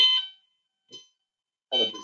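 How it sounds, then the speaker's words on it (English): An intermittent fire alarm test tone sounds during a control systems cybersecurity conference, with sharp high-pitched bursts separated by silent gaps. "It's the fire alarm test."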